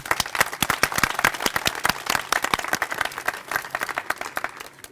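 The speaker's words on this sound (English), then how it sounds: "Let's give another round of applause to our incredible speakers." Crowd applauding speakers at an outdoor Pride flag raising held by a county executive, with steady dense clapping, loud and continuous, sharp individual claps standing out near the mic.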